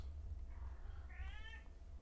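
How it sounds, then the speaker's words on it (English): A cat meows once, a drawn-out rising and falling cry over a low steady background hum. "I'm sure you can hear the little cat screaming in the background"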